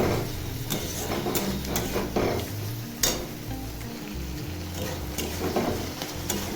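Onion and tomato frying in oil in a pan, a soft continuous sizzle broken by scraping stirs and light utensil clicks against the pan at close range, no voices.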